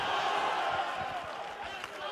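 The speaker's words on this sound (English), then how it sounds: "Crowd going mad there." Boxing crowd cheering wildly at an arena bout: a dense, sustained roar of many voices, loud and continuous, with scattered shouts and whoops rising above the wash.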